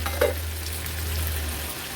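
Mustard seeds, cumin and curry leaves crackle in hot oil for a Maharashtrian tempering, a steady close sizzle with one brief sharp pop near the start.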